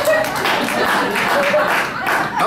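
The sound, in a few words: women in comedy club audience clapping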